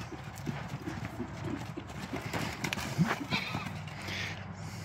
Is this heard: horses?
yes